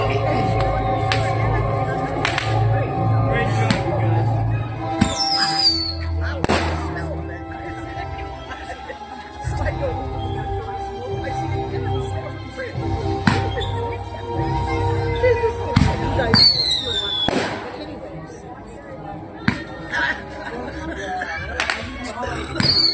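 Fourth of July fireworks mortar shells bursting over a long outdoor show, with booming blasts and crackles scattered through, under steady crowd chatter and occasional clapping.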